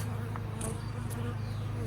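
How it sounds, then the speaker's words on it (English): A steady, dense buzzing hum of many honey bees, constant and fairly close, with a few brief higher whines as individual bees pass nearby. "So I'm gonna shake these bees"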